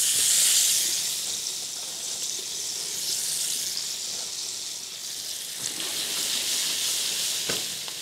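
Onion frying to golden in hot oil in a pan, a steady close sizzle and hiss with occasional stirring clicks, no voices.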